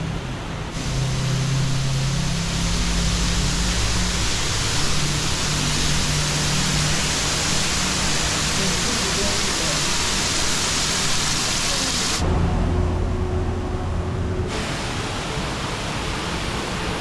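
Steady broadband rush of a waterfall inside a walk-through aviary in Kuala Lumpur, a constant roar with no talk, briefly shifting in tone near the end.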